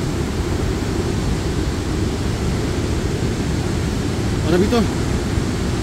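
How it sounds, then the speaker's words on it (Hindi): Heavy, steady roar of spray and falling water at Athirappilly falls, loud and close and unbroken throughout, with a short voice breaking in briefly near the end. "हैं इस वाटरफॉल की हैं फुहारे बहुत तेज हैं"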